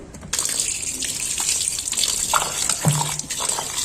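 Tap water runs and splashes while tripe is washed by hand, with a steady gush, a few splashes and a brief thump near the end.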